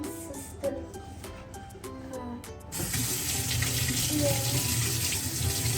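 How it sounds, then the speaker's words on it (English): A kitchen tap turns on and runs steadily as hands are washed, a close, hissing stream that follows a few light clicks and handling sounds, with a brief word spoken. "I'm gonna wash my hands"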